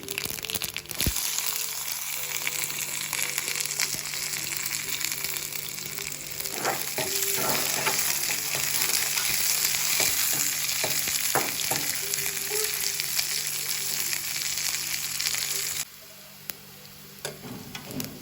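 Onions and potato masala frying in a pan for vegetable rolls, a dense continuous sizzle with stirring and scraping throughout, close up, dropping briefly near the end, with no voices.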